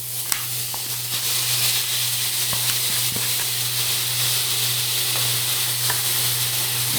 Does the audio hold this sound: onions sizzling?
yes